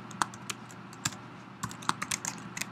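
Computer keyboard typing code, a quick irregular run of soft clicking keystrokes heard alone at close range and fairly quiet.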